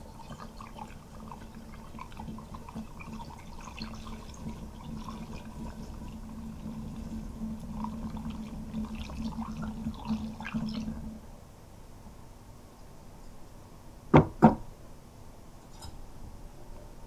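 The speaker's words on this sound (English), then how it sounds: "Now we're going to add our peach cider." Peach cider is poured into a container to start a batch of peach wine, making a soft, steady liquid pour for about eleven seconds, followed by two sharp knocks and quiet room sound.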